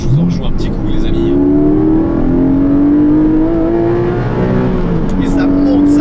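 A Porsche 718 Boxster GTS 4.0 with its naturally aspirated 400-horsepower flat-six revs steadily upward, the engine note climbing and holding loud and close throughout, with someone talking over it.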